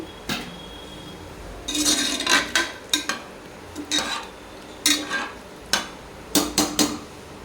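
Metal clanks and clatters from a pressure cooker holding kurma curry as it is opened, a scattered series of sharp knocks and scrapes with brief hisses between them and no talking.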